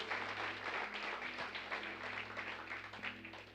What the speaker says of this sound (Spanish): Dele el aplauso al Señor en esta mañana.